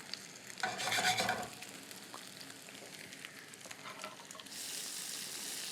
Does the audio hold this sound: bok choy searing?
yes